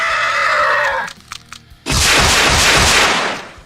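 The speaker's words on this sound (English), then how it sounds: "It can fire a row of straight rockets." Revenant variant from a Doom mod launching a row of straight rockets: a sudden loud, dense whooshing blast that holds steady for nearly two seconds after a quieter stretch of game sounds.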